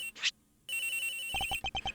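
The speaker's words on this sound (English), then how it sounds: "The ringing's coming from in here, sir." A cell phone rings inside a locker in the Ace Attorney Investigations video game: a short electronic chirp, a pause, then a steady ringtone of rapid repeated beeps, fairly loud and close.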